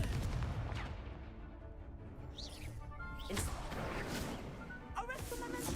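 Spell blasts from the Hogwarts Legacy video game, including a fiery Confringo burst, crack and boom over a constant loud wash of combat noise, with several sharp hits spaced through the few seconds and a chirping magical shimmer between them.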